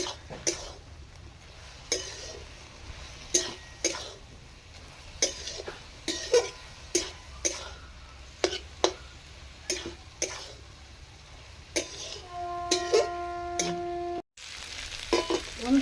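Chicken mince stirred and fried dry in a pan for chicken rolls, with a steady sizzle under a repeated rhythm of sharp spatula scrapes and taps against the pan, close and fairly loud throughout.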